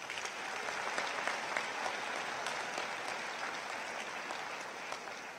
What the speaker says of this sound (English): Please give our faculty a round of applause.